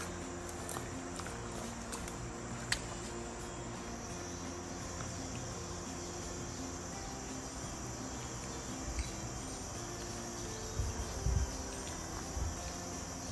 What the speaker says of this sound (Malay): dengan bunyi cengkerik hutan, dan sekali-sekala kita dengar kicauan burung